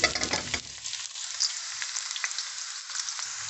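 Onions sizzle and fry steadily in hot oil in a Kirkton House wok on a gas stove, a close, continuous crackling hiss with a brief burst of louder spattering at the start.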